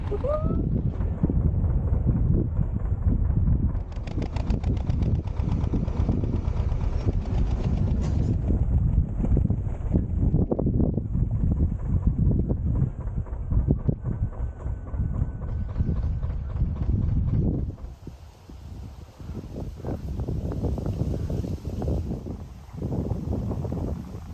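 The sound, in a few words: strong wind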